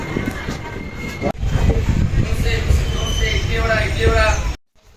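A train, the Siddaganga SF Express, rumbles and clatters steadily as it rolls into Byadgi railway station, with a low mechanical roar and faint squeals, ending abruptly in near silence.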